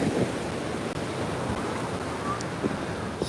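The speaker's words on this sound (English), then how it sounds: "Now the waves are kind of serious. They're like 4-foot waves" Ocean waves of about four feet at Coney Island beach roll in as a broad, continuous wash of surf with wind noise, steady and fairly loud, with a few faint distant voices.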